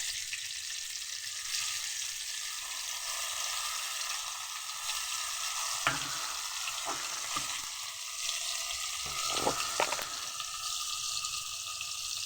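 Ground paste of cashew, poppy seed and mustard sizzling in a hot pan for a prawn curry, a steady hiss with occasional spoon scrapes and clinks, no speech.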